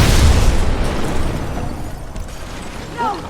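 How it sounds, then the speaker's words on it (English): Explosives blow open a wall in Batman: Arkham Asylum, a loud broadband boom at the very start that rumbles and decays over a few seconds, with faint mechanical clicks and a brief tonal chirp near the end. "The first one I find is locked in a room, but there is a wall I can explode. So, of course, I rigged explosives and..."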